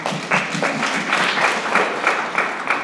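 A small audience claps together at a Juneteenth celebration event, a steady, close patter of many hands lasting a few seconds with no talk.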